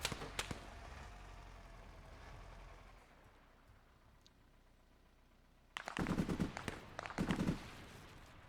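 Bursts of automatic gunfire in the Arma-based Antistasi game, a rattling spray at the start, then a quiet lull before two loud, close volleys of rapid shots near the end.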